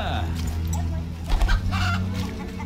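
A chicken clucks in The Witcher 1 video game, repeated clucks heard near over background game music and ambience.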